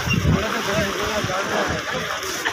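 The flooded Luni river rushes in a steady, loud, broad roar near Jaswant Sagar dam at Pichiyak, Bilara, with voices heard faintly over the churning water.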